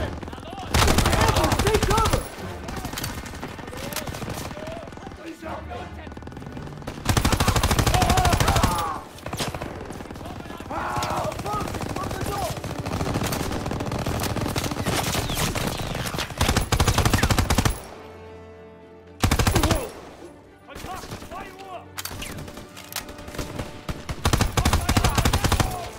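Machine-gun fire and rifle shots from the World War II shooter game Call of Duty WW2, with loud sustained bursts, brief pauses and dense battle noise, plus occasional shouted voices.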